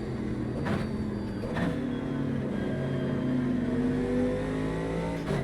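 A Camaro race car in the sim racing game Automobilista 2 revs and drones with a steady, loud engine tone, its pitch climbing in smooth sweeps with brief shift breaks near the start.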